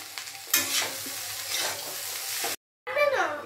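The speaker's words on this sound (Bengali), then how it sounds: "আমি যে চিড়েটা ধুয়ে রেখেছিলাম এবার আমি সেটা কড়াইয়ে দিয়ে দিচ্ছি" Washed flattened rice being stirred in a kadai, with a steady scraping and sizzling texture that runs continuously, breaks off briefly near the end, then resumes with a louder rustling stir.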